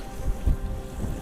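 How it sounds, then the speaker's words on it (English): Strong wind buffets the microphone on the coast at Cleveleys, England, as a steady roar with low gusty thumps and no voices. "another windy day in Cleveleys."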